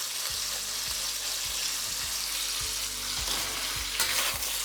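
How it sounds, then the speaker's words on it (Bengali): Chicken and garlic stir-frying in a pan, a loud close sizzle with rhythmic scraping and tossing strokes from a spatula roughly every half second, no talk. "তবে চিকেনের সাথে এই রসুনগুলোকে আপনাদের ভালো করে ভেজে নিতে হবে।"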